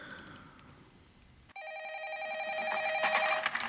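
A telephone starts ringing abruptly after a quiet stretch, a bright electronic trilling tone that repeats and grows steadily louder, alone without talk.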